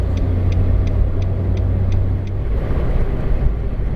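Nissan March 1.2 engine droning steadily at highway speed on a toll road, a strong low rumble with road noise and a faint repeating tick, loud and continuous throughout.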